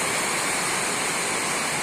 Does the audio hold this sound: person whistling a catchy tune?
no